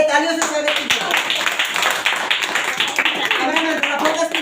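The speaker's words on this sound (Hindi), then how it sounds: "तालियों से स्वागत कीजिए" An audience claps to welcome a guest at a ceremony honouring students who served at a yagya: steady, dense applause fills the whole stretch, with voices mixed in underneath.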